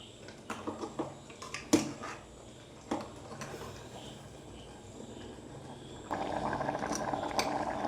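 Soft bubbling and simmering from a pot of rice and fenugreek porridge, with a few clinks early on and a steadier bubbling hiss rising toward the end.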